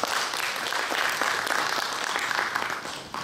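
Steady, full applause from the audience at an academic society's spring conference, dense clapping that holds evenly throughout and fades slightly at the end.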